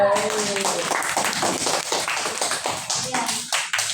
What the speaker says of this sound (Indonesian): nanti kita berikan aplaus yang meriah untuk kelompok